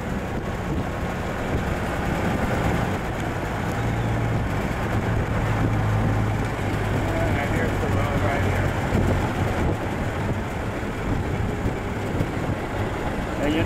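A 1920 Locomobile Dual Cowl Phaeton's engine drones steadily at a low pitch while driving in fourth gear, with rushing wind noise throughout and a person talking over it.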